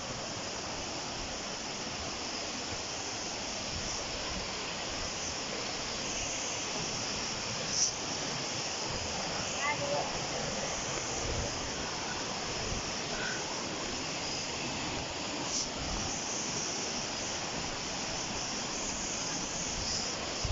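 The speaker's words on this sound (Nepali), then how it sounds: "खोलाहरू लास्टै ठुल्ठुलो छ नि" Large mountain streams rush in a constant, full roar of water that stays even throughout with no voices.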